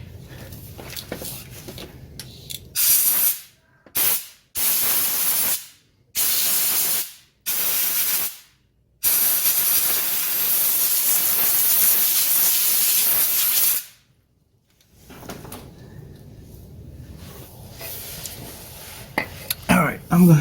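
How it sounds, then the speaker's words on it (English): Compressed air hose blowing out bolt holes on a Ford F-150 during a drive shaft repair, a series of loud hissing blasts of varying length, close by, with someone speaking before and after. "I'm going to blow out those bolt holes there, just to clean it out as good as I can"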